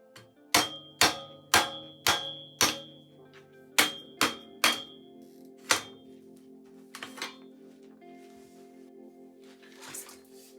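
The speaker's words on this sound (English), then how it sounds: "For the handlebar stem, I break out the hammer of persuasion." A series of sharp metallic hammer blows on a stuck handlebar stem of a 1980s Trek 820 Antelope bicycle, about ten strikes in a steady rhythm that then thin out, ringing briefly, close up with no talking.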